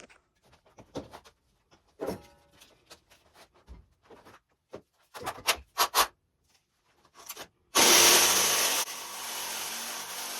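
Pieces of wood are cut off a tabletop drafting mock-up, first with intermittent knocks and rubbing scrapes, then a loud, harsh, continuous power-cutting roar that holds for a few seconds near the end.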